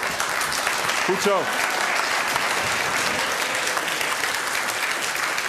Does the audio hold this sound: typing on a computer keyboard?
no